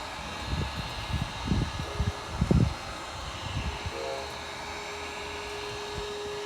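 A heat gun blows a steady, close hiss of air while warming vinyl wrap on a car headlight, a G35/350Z, with a few soft low thumps early on and no talking.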